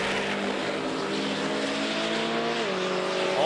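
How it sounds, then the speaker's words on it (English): A drag racing car at an NMRA Bradenton Spring Break Shootout event spins its tire, its engine a loud, steady roar with rising harmonics near the end and no talk over it. "Albright's car turning the tire a little bit."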